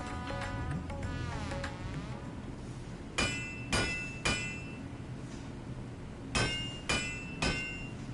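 Hammer blows on an anvil in Final Fantasy XIV: Endwalker, as a blacksmith forges a Zweihander greatsword: two tight sets of three sharp metallic clangs with ringing overtones, after a shimmering magical whoosh, over soft game ambience.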